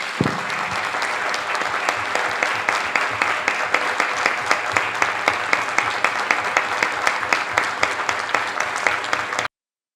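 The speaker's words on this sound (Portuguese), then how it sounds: "queremos pedir uma salva de palmas para o ministro Alexandre" Sustained audience applause at a legal forum on civil code reform in Lisbon, a steady even roar of many hands with faint rhythmic accents, continuing for several seconds before cutting off abruptly.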